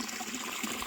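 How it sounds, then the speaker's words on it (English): Water pours from a pipe down into an aquaponics bell siphon with a steady, close, hissing gush that runs without pause. "I finally got the water coming out of that pipe there to go down into the bell siphon"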